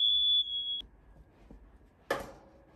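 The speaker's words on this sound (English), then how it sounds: "and there goes my smoke detector." A smoke detector's steady high-pitched electronic alarm tone sounds for about half a second and stops, followed by quiet background and a sudden clattering burst.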